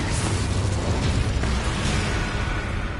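A fire spell burst is cast in the Hogwarts Legacy video game during a fight: a dense, roaring, crackling blast that stays loud throughout the short moment.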